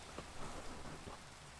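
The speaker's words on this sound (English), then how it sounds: "And now it's raining." Steady rain falls in a video game as a faint, even hiss, with a few soft low rumbles beneath it.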